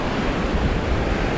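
Strong, taut wind blows over the sea at a surfcasting spot, a steady loud broadband roar mixed with surf and microphone buffeting, with no voices.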